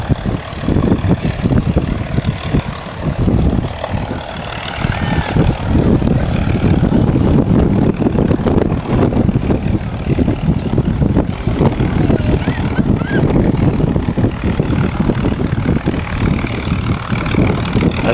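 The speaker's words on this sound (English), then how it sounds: "The aircraft of Flight Lieutenant Desmond Ibbotson, DFC." A vintage piston-engined warbird, likely a Spitfire, roars loud and throaty at a Battle of Britain weekend airshow. The rumbling drone holds strong and rough throughout, with no talk heard.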